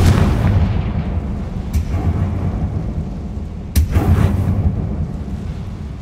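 Fiery Confringo spell blasts in the video game Hogwarts Legacy: two loud, booming explosions a couple of seconds apart over a steady, rumbling game background, with no talking.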